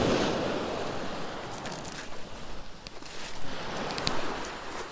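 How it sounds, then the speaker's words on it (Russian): Sea waves wash onto a winter beach at Tekirova near Kemer, Antalya, a steady, loud rolling surf with wind rushing across the microphone and no voices. "Море увидели? Вот сейчас вы его послушаете,"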